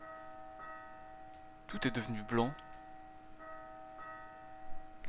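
Bell chiming in the video game Lost Sphear, sounding as repeated soft strikes with long, sustained ringing overtones, while someone speaks briefly over it partway through.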